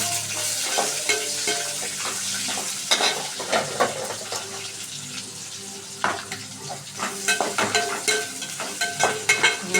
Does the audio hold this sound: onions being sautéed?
yes